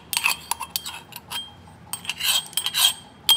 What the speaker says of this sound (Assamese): এতিয়া মই নহৰুখিনি থেতালিম